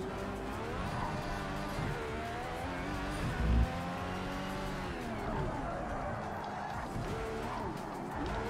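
A race car driven sideways in the VR racing game Project Cars 3 gives a steady, close engine roar whose pitch rises and falls with revving, with a hint of tire squeal and no talking.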